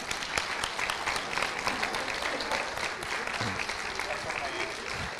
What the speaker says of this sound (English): would you just stand up for a second, because you deserve a hand clap